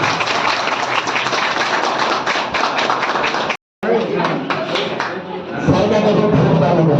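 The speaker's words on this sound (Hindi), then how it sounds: "ताली बजती रहनी चाहिए।" Applause from an audience at a farewell function for a retiring education officer, dense and steady clapping throughout with a brief break midway, people speaking over it in places.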